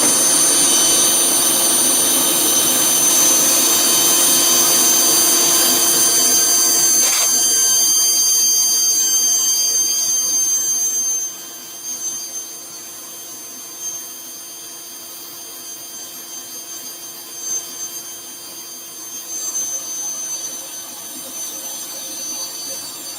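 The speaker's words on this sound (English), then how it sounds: "We're just going to finish this sanding and get that blue on" A loud, steady whir of a spinning machine with a high hiss from sanding a rippled ash wooden bowl, dropping to a quieter hum partway through.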